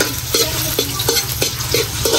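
Onions and garlic frying in oil for chicken adobo, a close steady sizzle with regular spatula scrapes and taps about every third of a second.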